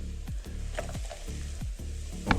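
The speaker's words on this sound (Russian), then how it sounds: "предварительно немножечко обжарим лук и морковочку." Onion, carrot and garlic fry in a pot at an outdoor campfire, giving a steady sizzle broken by several scraping stirs.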